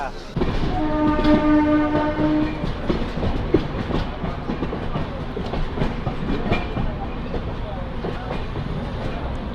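A crowded special passenger train pulls out of Vijayawada Junction, its horn sounding early on, followed by rumbling wagons and rhythmic clickety-clack of wheels over rail joints, with faint talk in the background.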